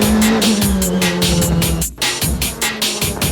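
Toyota Supra race cars passing a Nissan Z through a corner in a JGTC race, loud engines with rising and falling revs, tires squealing, a brief gap and then another car roaring past.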